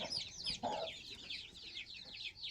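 Chicks peep rapidly and continuously while a red rooster gives a short, low cluck nearby; fairly quiet overall.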